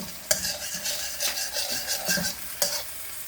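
Vegetables stir-frying in very hot oil, a close sizzle punctuated by sharp spatula scrapes and clacks against the pan at an irregular pace.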